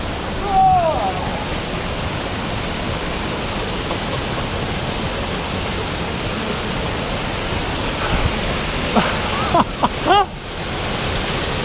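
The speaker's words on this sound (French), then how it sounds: "Allez, sous la cascade là." A waterfall on Réunion Island roars as a steady, loud broadband wash throughout, with a couple of brief voices rising faintly over the constant water noise.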